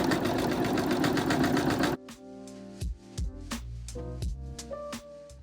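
A sewing machine top stitches rows along the brim of a denim patchwork bucket hat, running in a fast rhythmic whir for about two seconds, then falling to scattered clicks, thumps and short stitch bursts close by.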